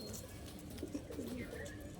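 Pigeons kept and sold as fancy flying birds in Beldanga, Murshidabad give soft, low cooing notes that rise and fall steadily against a busy background.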